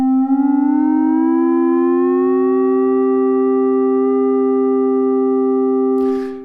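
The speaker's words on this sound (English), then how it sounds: "Now you have what I often call the prog rock lead solo sound." A sustained synthesizer lead tone with layered pure harmonics, one note gliding slowly upward beneath a steady pitch, held loud for about six seconds before cutting off.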